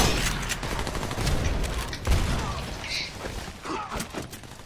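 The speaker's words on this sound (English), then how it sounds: "you'd think that they would stop trying to shoot at me from the front" Dense gunfire in the video game Army of Two, rapid overlapping shots and thuds aimed at the player, continuous and loud throughout.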